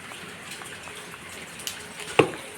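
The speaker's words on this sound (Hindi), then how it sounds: "इन्हें तो बरसात है" Rain falls outside a house as a soft, steady hiss, with a couple of louder drips landing near the end.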